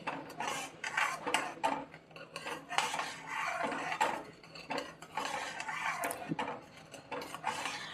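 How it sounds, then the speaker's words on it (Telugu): A spoon stirring sugar into milk in a metal pot, continuous scraping and clinking against the pot's sides and bottom at moderate volume, with no talking. "షుగర్ వేసిన తర్వాత ఒక 5 నిమిషాలు అది మొత్తం కలిసేలాగా మనం ఇలా కలుపుకొని"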